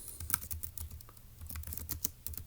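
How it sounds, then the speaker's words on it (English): Rapid clicking of computer keyboard keys, quiet and close, with an irregular rhythm of individual keystrokes and no voices. "let's go ahead and type that up"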